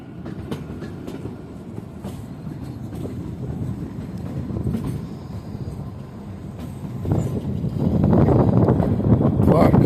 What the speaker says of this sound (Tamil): ட்ரெயின் கொஞ்சம் ஸ்லோவாக போகுது